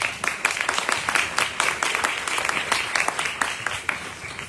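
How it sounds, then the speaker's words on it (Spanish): Sustained applause from an audience, dense steady clapping filling the whole stretch without pause. "Pido un aplauso para Vanessa Droz."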